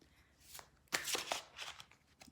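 Tarot cards shuffled by hand, a brief close riffle of papery flutters and slaps, quiet and alone.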